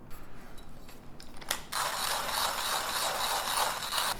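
A grind setting being turned on a Nidouillet manual coffee grinder with a six-axis burr, first faint mechanical clicks, then a louder steady grinding rasp that runs close and continuous to the end.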